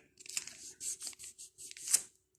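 Paper tape torn off in a series of quick, rasping rips, close up and fairly loud, ending in one sharper final tear.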